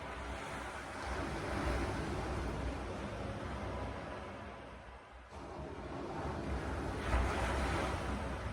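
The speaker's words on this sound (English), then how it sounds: "let you take in the sound of the waves here too" Ocean surf rolls steadily through an open window on a bright day, a continuous broadband wash with swells rising and easing, one brief lull midway, and light wind noise on the microphone.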